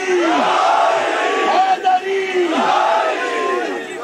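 At a 2004 religious gathering for 13 Rajab, a large crowd answers with the Nara-e-Haidri slogan, loud overlapping voices shouting in unison and rising and falling in repeated waves close by.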